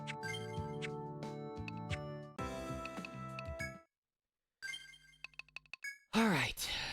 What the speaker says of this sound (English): It's the Taco Bell bong.